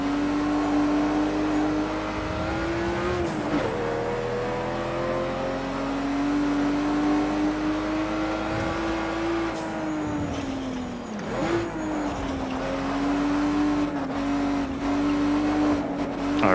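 Race cars, among them a Ford Mustang, roar around the Nurburgring in Project Cars 2, a steady loud engine drone that rises and falls through gear changes across the whole stretch, with brief tyre scrubbing and no voices.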